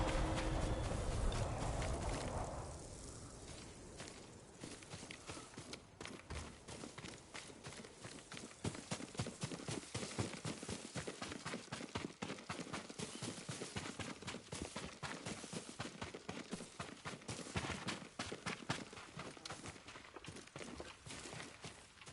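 Horse hooves clip-clopping in the video game Ghost of Tsushima, a rapid, steady rhythm of light hoofbeats that follows a brief rumble at the start and carries on at moderate volume without talk.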